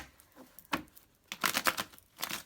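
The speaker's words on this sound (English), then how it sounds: "I'm going to go ahead and shuffle these cards real quick from the last reading." Tarot cards are shuffled by hand in a few quick, crisp riffling bursts separated by short pauses, close and moderately loud, with no talk over them.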